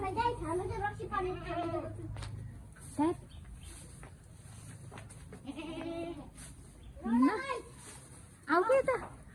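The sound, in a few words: goat bleating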